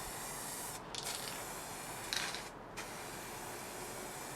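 A spray can or gun lays a lacquer coat onto a guitar body, a steady close hiss that runs without a break, with a few short dips and small knocks as the spray moves from one side to the other.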